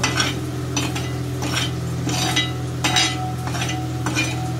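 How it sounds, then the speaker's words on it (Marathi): Spice masala for a mutton dish roasts in a pan while being stirred, with a steady low sizzle and repeated scraping sweeps of the spoon across the pan, no voices. "तर बघा आपला असा मसाला भाजून तयार झाला."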